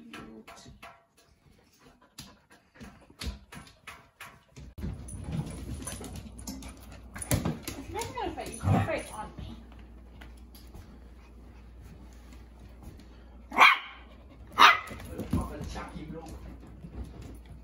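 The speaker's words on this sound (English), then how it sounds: "He is a good dog," A dog gives soft, intermittent whimpers and two sharp barks close by in a quiet home, while people chat between the sounds.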